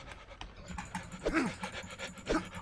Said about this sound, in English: All I hear is panting.